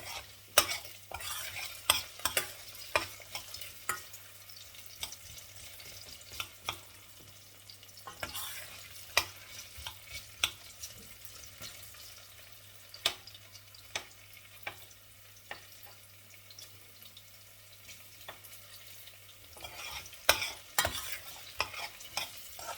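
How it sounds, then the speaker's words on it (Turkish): Tomato paste fries in a pan with a soft sizzle while a utensil stirs and scrapes it in irregular bursts, close and moderately quiet with no talk. "İçine biraz salça atacağım. Kavrulsun ondan sonra"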